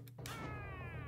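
A single drawn-out cat meow, close and clear, with a rising then slowly falling tone lasting about a second, alone with no talk.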